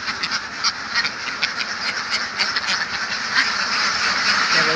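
Khaki Campbell ducks on a farm quack busily and close by, many birds calling over one another in a continuous chattering chorus with no speech.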